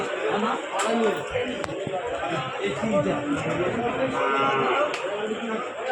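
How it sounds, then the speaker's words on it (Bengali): Butcher cattle low and bellow amid the steady hubbub of the crowded Sakshar livestock market, with people chattering throughout. "এখানে সব কসাই গরু আছে"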